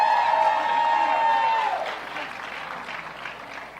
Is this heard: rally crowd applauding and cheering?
yes